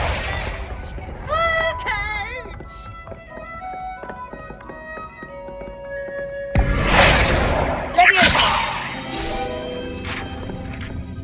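Hogwarts Legacy's Confringo fire spell bursts with a sudden roaring blast and a second sharp crack soon after, loud against quieter game music and ambient tones.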